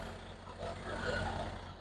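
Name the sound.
big truck engine nearby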